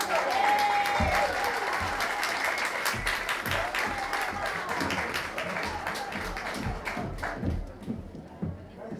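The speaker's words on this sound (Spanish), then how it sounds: "Y recíbamelo con un aplauso." An audience claps warmly to welcome a singer at an anniversary gala, with distinct individual claps over a dense wash, a voice briefly heard early, and the clapping thinning out toward the end.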